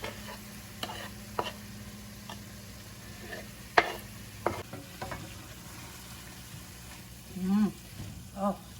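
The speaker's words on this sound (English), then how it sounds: "Fry that up till no pink remains." Meat frying with small garlic cloves in a pan, stirred as it cooks: a steady sizzling hiss broken by scattered scrapes and clicks of a utensil, with a brief low murmur of voice near the end.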